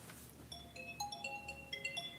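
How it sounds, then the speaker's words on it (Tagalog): A melodic phone ringtone plays alone in a sequence of bright electronic tones in a stepping, tune-like pattern, moderately quiet, with no talk over it. "Ringtone."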